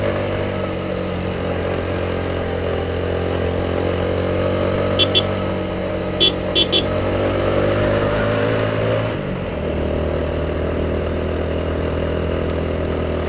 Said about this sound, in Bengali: ইঞ্জিন খুব চেষ্টা করতেছে।